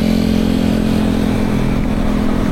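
An Indomobil Adora EV electric motorbike at full throttle on a road, a loud, constant rush of wind and road noise with a steady underlying hum, no pauses and no voices.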